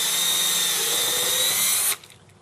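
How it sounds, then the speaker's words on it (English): A drill bores a hole through boat fiberglass during Bimini top installation, a steady loud whine that runs continuously for about two seconds and then cuts off abruptly. "drill your hole through the fiberglass."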